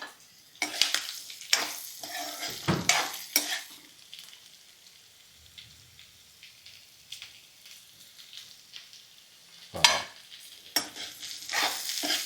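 Beetroot pieces frying in a pan for chutney, with a soft sizzle under intermittent spatula scrapes and stirring clatter, louder bursts at the start and near the end, and no talking.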